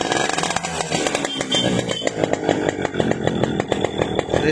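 Suzuki Max 100 R two-stroke motorcycle engine revving hard and steadily up close, a buzzing, raspy drone with a rapid firing pulse that climbs slightly in pitch over a few seconds.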